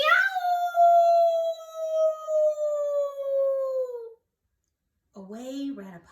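A long sustained coyote howl, loud and near, slowly falling in pitch for about four seconds, then a second of silence before a short burst of yipping that may be a voice imitating the animal.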